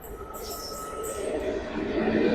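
Maharashtra Express hauled by a WAP-4 electric locomotive accelerating away from Sangli near Vishrambag station, a steady broad rumble slowly building in loudness with faint wheel squeal, heard alone.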